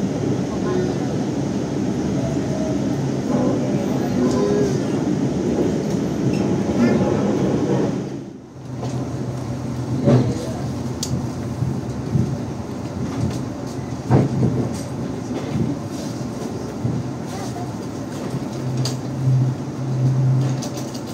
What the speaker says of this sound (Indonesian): Pukul 19:53 kereta api Tegal Bahari tiba di stasiun Cikarang.